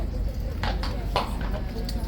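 Hooves of a restless King's Guard horse at Horse Guards clip-clopping on hard ground, a few sharp close strikes under steady crowd chatter and background hum.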